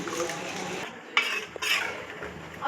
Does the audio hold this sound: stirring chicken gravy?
yes